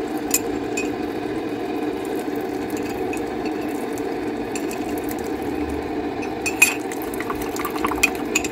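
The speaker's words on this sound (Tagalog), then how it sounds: "Lagyan natin ng tubig." Water poured from a kettle into a cup to make coffee in a small Hong Kong room, a steady mid-level trickle running continuously, with light glass and cutlery clinks near the end.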